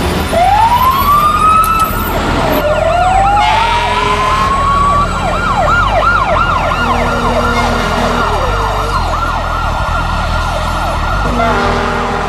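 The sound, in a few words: fire engine sirens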